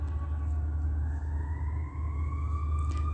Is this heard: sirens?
yes